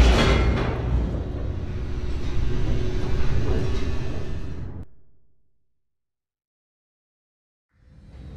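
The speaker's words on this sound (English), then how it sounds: "The elevator raced downward" In The Stanley Parable video game, an elevator races downward with a loud rushing, rattling rumble that swells slightly, then fades to total silence before a new rumble begins at the end.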